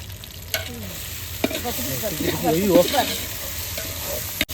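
Meat fries with ginger garlic paste in a pan outdoors during a Pongal celebration, a steady sizzle broken by sharp scraping stirs, while people talk nearby.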